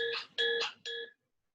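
A mobile phone gives three electronic ringing bursts, each a bright warbling tone, close and clear, with the last burst shorter and followed by silence.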